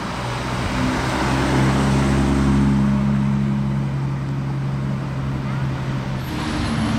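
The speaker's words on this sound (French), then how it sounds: "750S Spider Vanquish S, sonorité exceptionnelle" A McLaren 750S Spider and an Aston Martin Vanquish S drone steadily on a street in Monaco, a loud sustained low engine note with traffic noise around it and voices nearby.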